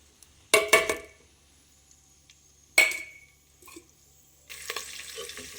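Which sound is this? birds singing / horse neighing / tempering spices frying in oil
tempering spices frying in oil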